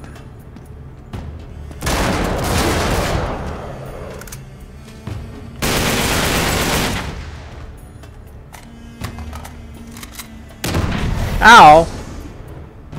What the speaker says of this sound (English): Who's using cannon on me?